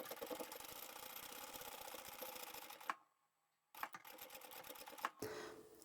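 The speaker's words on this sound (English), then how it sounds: "Sew all the way down to the end with a back stitch." Domestic sewing machine running a back stitch down the length of a fabric zippered pouch, a steady close mechanical whir with rapid needle ticks, stopping briefly midway and then resuming.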